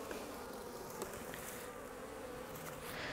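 A dense, steady hum of many bees fills the air close by during a spring hive inspection, with occasional small knocks from the hive boxes.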